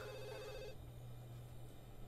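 A telephone in The Sims 2 video game rings with an electronic trill for a brief moment before cutting off, leaving a steady low hum beneath the room ambience.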